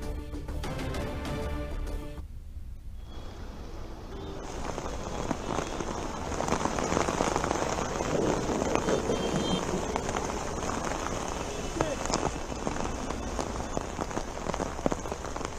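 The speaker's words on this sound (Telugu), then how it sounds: "మహారాష్ట్రను కుండపోత వర్షాలు ముంచెత్తుతున్నాయి" Heavy monsoon rain pours down in Mumbai, Maharashtra, a dense steady roar of drops drumming on surfaces that swells louder after the first few seconds and holds without pause, with no voices.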